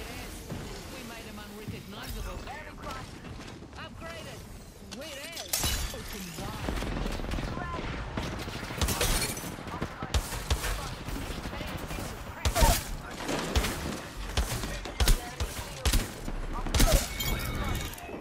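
Mozambique shotgun firing in Apex Legends, repeated sharp blasts scattered among other gunfire and crashes during a match, growing louder and denser toward the end, with someone talking throughout.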